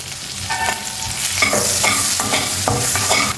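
Green chillies and turmeric fry in a pan while making a sweet corn dish, giving a close, steady sizzle with a rhythmic series of spatula scrapes and stirs and no talking.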